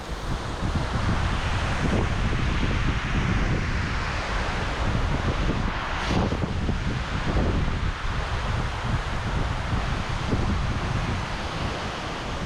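Heavy wind gusting across open Wyoming country during an archery hunt, a loud continuous roar buffeting the microphone with rustling and faint surges, steady throughout with no talk.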